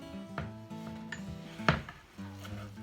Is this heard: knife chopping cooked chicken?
yes